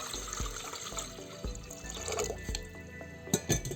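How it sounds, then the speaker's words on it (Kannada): Water is poured onto lentils in a vessel, with gurgling splashes and a few drips, a soft steady flow, close and without speech. "ಬೇಳೆಗೆ ನೀರು ಹಾಕ್ತಾಯಿದ್ದೀನಿ"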